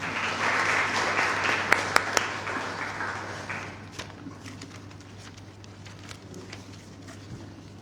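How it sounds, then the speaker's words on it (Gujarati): An audience at a library felicitation ceremony applauds the library team, loud sustained clapping with a few sharp claps that gradually thins out, over a low electrical hum. "તેથી આપણે સૌ સયાજી લાઇબ્રેરીમાં નિસ્વાર્થ ભાવે સેવા કરનાર સમગ્ર ટીમ માટે જોરદાર તાળીઓથી બિરદાવીએ."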